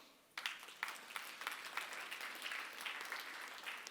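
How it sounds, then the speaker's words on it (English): Audience at a wealth and networking event breaking into applause, a sudden onset of dense clapping that holds steady and fairly loud for the rest of the stretch, no voices on top. "Let's give these guys a round of applause."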